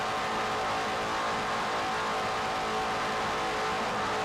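Offshore racing powerboats from the 1993 Montauk Offshore Grand Prix roar in a steady, loud engine drone with no letup, a dense wash of sound as the boats run through a turn.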